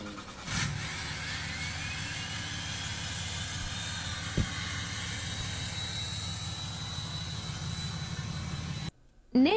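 A Cummins 6.7 diesel truck engine runs with a loud, airplane-like turbo whine and a steady low rumble throughout, cutting off sharply near the end.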